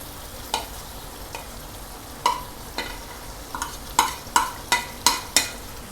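Sharp metal spatula scrapes and taps against a pan as cabbage is tossed in a sizzling dragon chicken sauce, irregular strokes growing busier toward the end over a quiet, steady hiss.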